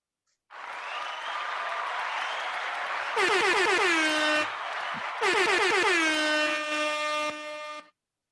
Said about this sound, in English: let's give our guest a justice clap